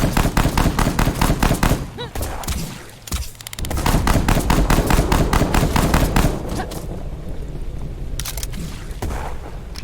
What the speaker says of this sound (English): Just shooting those damn projectiles.